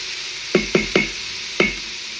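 Onions frying in oil in a pan give off a steady, close hiss, broken by four sharp knocks of utensil on pan, three quick ones and then a lone fourth.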